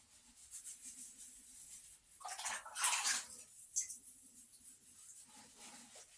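A wet shampoo bar is worked through dreadlocks: soft rubbing and watery squelching swell into a louder, close scrubbing burst midway, then fade back to gentle, intermittent friction.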